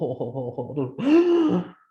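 A voice imitates a coughing fit in quick bursts, followed by a long, high-pitched whooping gasp of breath.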